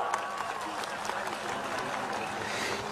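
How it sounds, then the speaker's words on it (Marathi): A crowd at a Vanchit Bahujan Aghadi political rally in Pimpri-Chinchwad breaks into loud, sustained applause, dense clapping filling the space evenly for the whole stretch, with a faint voice mixed in. "जोरदार टाळ्या वाजवा"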